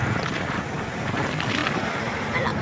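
Strong night wind in Tagaytay gusting against the microphone, a constant loud roaring rush with low rumble throughout, no voices heard.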